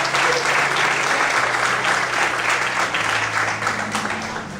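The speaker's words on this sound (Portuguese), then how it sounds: "Você pode desocupar sua mão e aplaudir o Senhor nesta noite" Church congregation applauding together during an evening service, a dense, loud, steady roar of clapping filling the whole clip and easing slightly toward the end.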